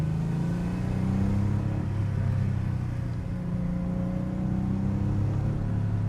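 A Porsche 964 Carrera 2 with all-wheel drive pushed hard on a test road, a loud steady engine drone with rising tonal whine and road rumble, no talk.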